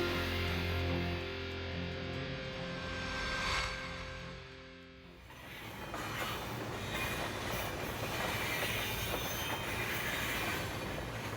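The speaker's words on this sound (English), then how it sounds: "I'm going to wait for the train to start and drive me to England." A train heading to England rumbles steadily along the rails, a low droning hum giving way to a broader, rattling roar as it picks up pace, continuous and fairly loud.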